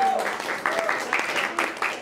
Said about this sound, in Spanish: quiero pedirles el último aplauso para Germán Haynes